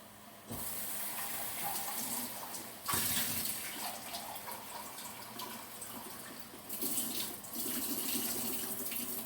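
Water pours steadily into a pot of collard greens with smoked turkey necks nearby, a continuous splashing rush that briefly surges louder a couple of times.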